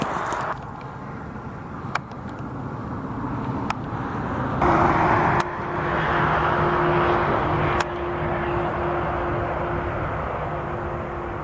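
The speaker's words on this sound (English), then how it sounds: "The fence and the sound of the vehicles give me cover." Road vehicles passing along a highway beside a fence near Kamloops, a continuous broadband roar that swells and fades as each one goes by, with a few sharp clicks and no talking.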